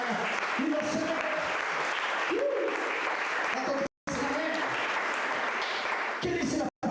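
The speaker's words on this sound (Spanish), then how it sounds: "Alguien que le aplauda a Jesús en esta mañana" A church congregation applauds during a Spanish-language sermon, a dense wash of clapping mixed with cheering voices and worship sounds, breaking off briefly twice.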